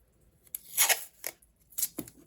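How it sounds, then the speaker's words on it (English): Clear tape pulled and pressed around two paper pages of an altered book to seal a pocket, heard as a few short, crackly rips and rustles close up with quiet gaps between them. "I'm just sticking my tape around it."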